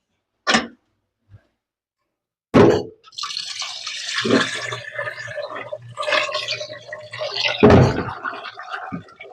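After a few isolated drips, water pours and splashes steadily for several seconds, with occasional louder gushes close by.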